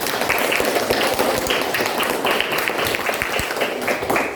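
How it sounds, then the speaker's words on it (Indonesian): Students in a classroom applaud one of their classmates. The clapping is steady and moderately loud throughout, with individual hand claps standing out against a few murmured voices. "Tepuk tangan untuk Reva Yunita."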